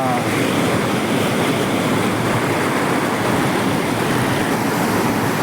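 River water rushes at a confluence of sacred rivers with a loud, continuous roar and spray-like wash that stays constant throughout, close and unbroken.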